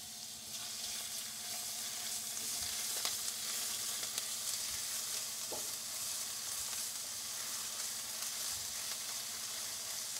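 Ginger frying in hot oil with green chili, curry leaves and onions for a mango and coconut fish curry, a loud continuous sizzle with a few faint clinks, no talking.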